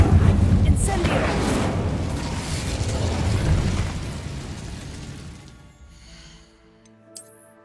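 Incendio fire spell cast in the Hogwarts Legacy video game, a loud roaring burst of flame that rumbles on for several seconds and then fades, leaving faint chiming tones and one small pop.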